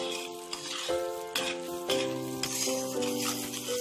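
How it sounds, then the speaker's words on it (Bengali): Sugar syrup bubbles and sizzles in a pan over medium-high flame, a steady hissing boil with spoon stirs and metallic scrapes against the pan. "চিনি গলে গেছে, মিডিয়াম টু হাই ফ্লেমে আরো কিছুক্ষণ ফুটতে দেব।"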